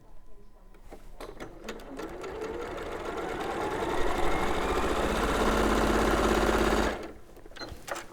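A sewing machine runs a quarter-inch seam through Hoffman batik fabric, whirring steadily and building to a loud continuous hum for several seconds before stopping, with faint handling noises around it.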